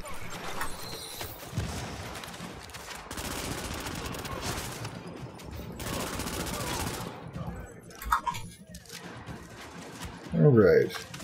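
Rapid bursts of automatic gunfire in the shooter video game The Division, several clattering volleys with brief gaps, mixed with game effects and a louder thump near the end.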